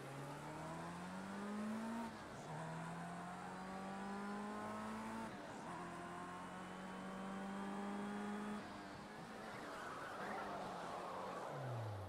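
A race car in Project CARS 2 on the Long Beach street circuit, its engine revving up through gears in repeated rising sweeps, with a short tyre skid near the end; steady and fairly close, no talk.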